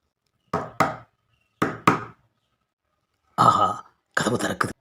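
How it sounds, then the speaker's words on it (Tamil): Knocking on a wooden door in a Tamil comedy scene: two crisp double knocks in quick succession, close and sharp against silence, followed by voices speaking. "கதவை தட்டுவோம்"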